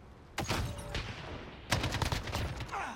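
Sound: machine gun fire in video game Call of Duty Modern Warfare

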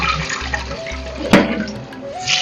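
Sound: rinsing yogurt-soaked fish pieces in water

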